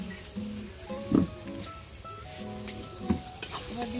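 Chicken curry masala sizzles and fries in a pan on a clay stove, a steady soft crackle broken by a few louder stirring scrapes near the start and again later in the clip.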